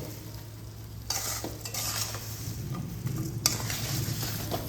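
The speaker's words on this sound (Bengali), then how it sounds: "চিনিটাকে ভালোভাবে লো ফ্লেমে গলিয়ে নেব" Sugar melting over a low flame for mango pickle, stirred with a spoon, a soft continuous sizzle with scraping strokes and a couple of sharper clinks against the pan, no voices.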